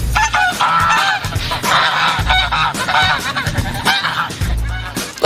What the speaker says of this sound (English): They're honking. They're stressed.